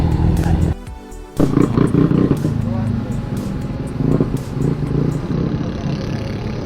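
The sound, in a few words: many motorcycles at a Shell gas station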